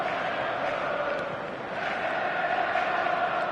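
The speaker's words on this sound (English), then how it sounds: "Such scenes here, a sea of team colours, songs ringing down from the stands." A massed stadium crowd sings in the stands of a PES football match, with rain-soaked supporters adding to a steady, dense roar and a sustained chanted tone. The sound dips slightly midway and then swells back, distant and continuous, with no clear talk over it.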